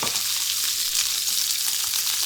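Venison hitting a smoking-hot oiled pan for a hard fry, a dense, even crackling sizzle that holds steady and close throughout.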